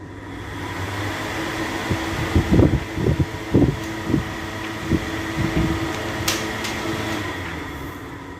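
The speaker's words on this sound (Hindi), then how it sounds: "इस डेजर्ट कूलर को चलाने से इसके पंप या फैन में से किसी किस्म की अबनॉर्मल साउंड नहीं आई" A desert cooler hums steadily as its pump and fan run, with a series of irregular low knocks and clunks in the middle and a few faint higher clicks later.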